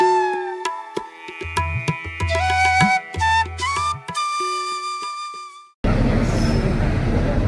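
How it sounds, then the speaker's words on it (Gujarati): A metro train rolls past with rumbling wheels and high, sustained squealing tones, then the noise cuts abruptly to a steady roar. "મેટ્રો જાય"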